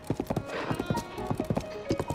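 A horse gallops in Zelda: Tears of the Kingdom, its hoofbeats a quick, steady, close rhythm over a soft background wash.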